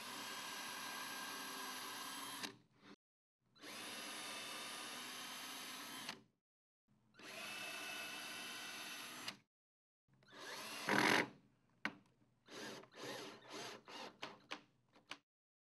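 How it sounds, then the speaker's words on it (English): A power drill drives number 8 1¼-inch screws through a Murphy bed header into the vertical, heard as three long steady whirring runs separated by pauses, then a burst of short choppy pulses, close and loud with no talk. "Attach the bed header to the vertical with 4 number 8 1¼-inch screws"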